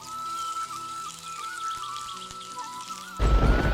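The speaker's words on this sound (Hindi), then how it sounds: "बिजली चमकी और मूसलाधार बारिश शुरू हो गई" Heavy rain pours as a cartoon sound effect in a Hindi animated story, a dense hiss of drops bursting in loudly near the end after a quieter stretch of light patter and tones.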